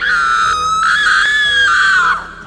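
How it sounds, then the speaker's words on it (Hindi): A woman screams in a Hindi horror story about a witch, one loud, sustained, high-pitched shriek that wavers slightly and holds for over two seconds before breaking off. "वो चीखती है"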